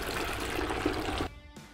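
Water pours steadily into a beer brewing kit, a close, rushing splash that cuts off abruptly, then a brief final trickle.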